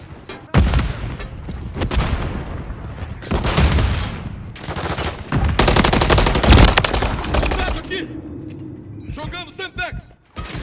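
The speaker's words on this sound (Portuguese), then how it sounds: "Tô levando tiro!" Gunfire in Call of Duty: Modern Warfare 3 on the Rust map, loud bursts of automatic fire and shots in dense clusters across an online match, with game voice callouts and a voice speaking over the action.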